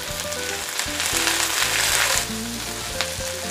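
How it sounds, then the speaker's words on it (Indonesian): Chopped red bird's-eye chilies, green chilies and large red chilies being stir-fried in a pan for spicy sweet soy tempeh, with a steady loud sizzle and occasional scraping stirs, no voices. "Ditumis-tumis, diaduk-aduk sampai cabainya juga layu ya."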